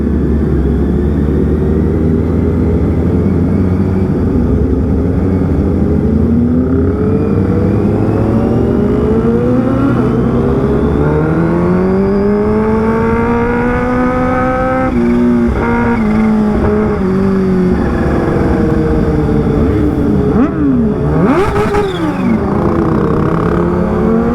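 A motorcycle engine revving hard on a road in Purbalingga, loud and close throughout, with rising and falling pitch sweeps as the throttle opens and shifts, and a sharp high rev burst near the end.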